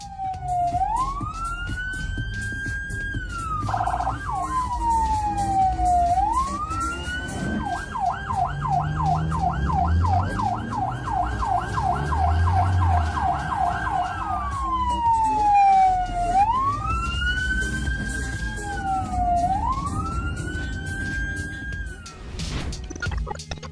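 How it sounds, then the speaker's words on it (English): Ambulance siren wailing in slow rising-and-falling sweeps amid traffic in China, loud and steady, with a stretch of rapid yelping pulses in the middle and engine rumble beneath. "it seems like they're using the same ambulance cars, for some reason no one wants to make way for them"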